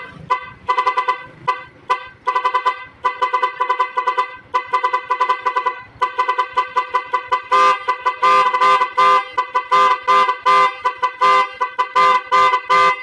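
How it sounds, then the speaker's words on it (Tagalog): A motorcycle's aftermarket Thai music horn honks out a rapid melodic tune, loud tones stepping through a repeating musical pattern with short gaps, steady and close. "para magkaroon tayo ng iba't ibang tunog ng ating busina na katulad nito"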